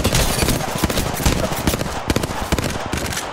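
Rapid, dense bursts of automatic weapon fire in a multiplayer shooter game, crackling continuously and loud throughout with occasional sharper single reports, while a voice talks over the shooting.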